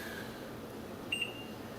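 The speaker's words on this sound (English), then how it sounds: "And you set the timer." Kitchen timer on a pot with a lid of onion cooking, giving a short, faint electronic beep over a quiet kitchen background hum, with no one talking.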